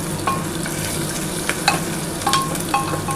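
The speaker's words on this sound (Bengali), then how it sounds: "এবার ভালো করে এটা একটু ভাজা ভাজা করতে হবে।" Onions frying with a little sugar in a pan for a pressure-cooker chicken curry, a steady close sizzle broken by intermittent scraping clicks of a spatula stirring, no voices.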